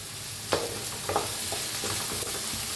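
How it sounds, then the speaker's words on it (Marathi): Onion and curry leaves frying in a pan give a constant close sizzle, with a few scraping stirs of a spatula, the first and sharpest coming early on. "कांदा छान असा भाजायचा लालसर कलर"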